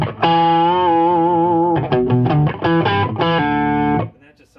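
Electric guitar played through a Boss octave pedal into an Orange CR120 amp, giving a thick, distorted tone with sustained chords followed by a choppier riff and a held final chord, loud and alone.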